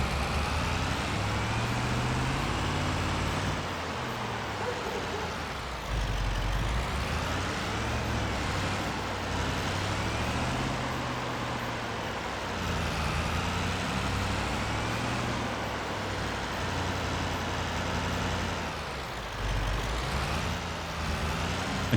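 Silver 2500 HD pickup truck in Farming Simulator 25 pulling a trailer up a hill in first gear from a standing start, engine droning loud and steady with rising and falling revs throughout.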